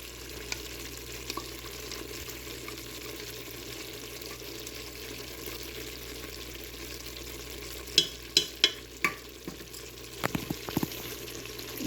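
Chicken with ginger garlic paste fries for karahi in a steady low sizzle, with a run of sharp spoon knocks and scrapes against the pot later on; no one speaks.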